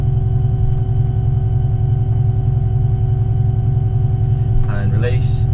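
A combine harvester's engine drones in a loud, steady low rumble with a constant hum while the machine leans over under HillMaster, and a brief mechanical squeal or voice breaks in near the end.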